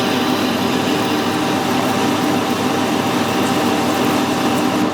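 A machine porting a steam boiler nut for a Sentinel at 90 RPM, producing a steady, loud, even mechanical hum and whir that continues without a break throughout.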